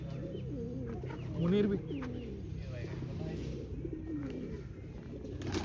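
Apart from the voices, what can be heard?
pigeons cooing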